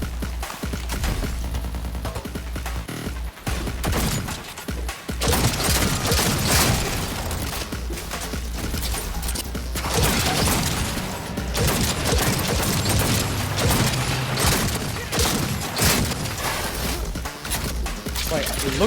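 Dense, continuous gunfire in a first-person game, Dying Light 2 or Cyberpunk 2077, with loud rapid bursts and booms over a busy soundtrack, and someone talking over parts of it.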